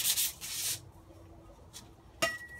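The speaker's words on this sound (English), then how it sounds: "I'm going to use a bit of sandpaper and a bit of wire wool." Sandpaper and wire wool scrub a galvanized pipe in a few brisk, close rubbing strokes, with quieter pauses between them.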